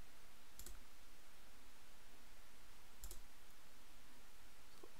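A computer mouse clicks twice, sharp and sparse, against a steady hiss of background noise, with no talking.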